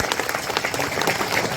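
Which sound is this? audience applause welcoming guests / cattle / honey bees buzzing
audience applause welcoming guests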